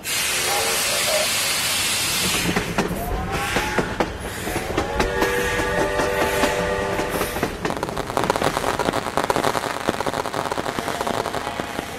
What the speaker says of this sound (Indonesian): Kereta sudah tiba.